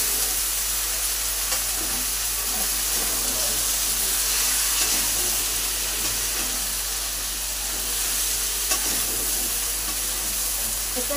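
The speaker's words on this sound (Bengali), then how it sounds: "এটা একটু ভালো করে ভাজা করে নিই" Katla fish head frying with green chillies in a pan makes a loud, continuous sizzle and steamy hiss, steady and close, with occasional stirring scrapes and no talk.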